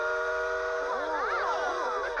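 A train whistle sounds in a children's television setting, a sustained multi-tone blast held steady for the whole stretch with bending, wavering pitches partway through, loud and close with no talking over it.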